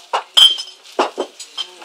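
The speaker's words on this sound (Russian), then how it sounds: "не бей посуду" Dishes clink and clatter in a handful of short, bright knocks, closely spaced at first and then lighter and more scattered, with no talking.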